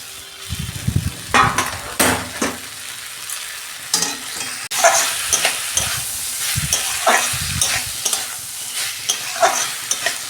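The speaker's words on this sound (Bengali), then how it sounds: "আমি ভাজা সবজিগুলো দিয়ে দিচ্ছি" Fried vegetables sizzle in a hot pan with cooked spices while a utensil stirs and scrapes through them in irregular bursts, close up with no talking.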